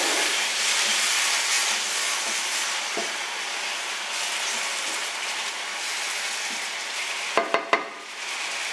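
Water poured into a hot pan on the stove gives a loud, steady hissing sizzle, with a few sharp clinks near the end.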